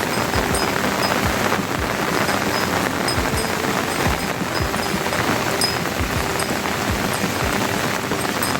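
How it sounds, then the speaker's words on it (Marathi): Steady rain falls over open farmland, a dense continuous hiss of drops pattering on surfaces with no pauses and no speech. "पाऊस बी छान लागतो पाऊस बऱ्यापैकी चांगला लागतो आता"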